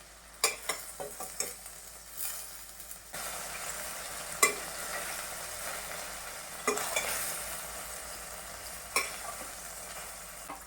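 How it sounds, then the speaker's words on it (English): Chicken pieces fry in oil in batches for a Bengali-style chicken bharta, a steady sizzle broken by scraping clicks as a spatula stirs and turns them, close up with no talking. "Similarly, I will fry my next batches."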